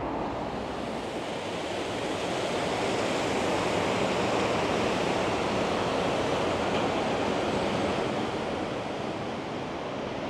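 Water rushes steadily along a river walk in downtown Seoul, a continuous broad wash of flowing noise with some wind, close and fairly loud, with no voices.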